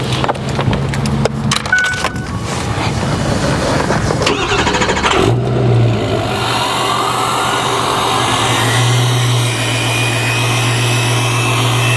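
Ford Bronco swapped with a 6.0 Powerstroke diesel engine and a 10-blade turbo cranks over, catches and roars up, then settles into a loud, steady, close idle.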